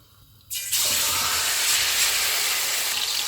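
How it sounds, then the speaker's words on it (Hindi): Marinated chicken dropped into hot oil for chicken tikka karahi, a sudden loud, steady sizzle that starts about half a second in and holds hissing without letup to the end, with no talk. "ऑयल गर्म हो गया है, इसमें मैरिनेटेड चिकन डालेंगे।"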